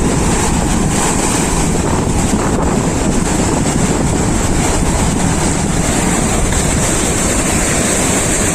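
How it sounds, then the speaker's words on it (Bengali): Loud, continuous roar of high-tide sea waves surging against boulders along Mandarmani beach, dense wash with heavy wind buffeting the microphone throughout, no voices. "ঢেউটা একবার দেখো তো, এখন জোয়ার চলছে"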